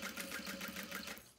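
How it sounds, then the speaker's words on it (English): A sewing machine stitches a seam at a long stitch length, running slowly, a quiet, fast, even mechanical chatter heard alone and close for a brief moment. "I'm gonna keep my stitch length to 4, back stitch there, and just go nice and slow."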